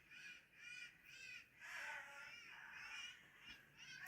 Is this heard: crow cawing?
yes